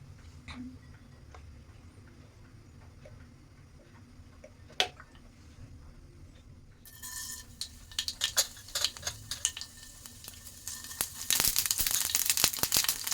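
Mustard seeds and cumin splutter in hot oil in a wok. The first half is quiet, then dense, rapid popping and crackling builds up and grows louder toward the end.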